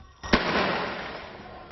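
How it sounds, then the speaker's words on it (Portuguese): A single sharp blast pops close by as police fire rubber bullets and tear gas grenades, followed by a long hissing rush that slowly fades. "Bala de borracha e bombas de gás lacrimogênio."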